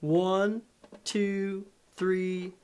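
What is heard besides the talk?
No distinct noise like a dog, phone or traffic.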